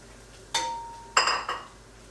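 Papri dough pieces stirred in frying oil in a pan, heard as a few sharp clinks and scrapes of a utensil against the pan, close and fairly loud, with a hiss of frying under them and no talk.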